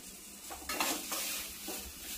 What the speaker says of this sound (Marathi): केळी पण चांगली परतून घ्यायची आहेत